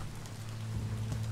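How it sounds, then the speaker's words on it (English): Steady rain falls in the video game Biomutant, an even, continuous patter over a low droning hum throughout, with no talking. "Raining."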